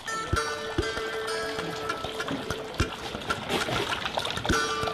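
Water pours and trickles into a vessel for drinking at a Japanese temple purification, with light splashes and irregular clinks against the bowl, close and moderately loud.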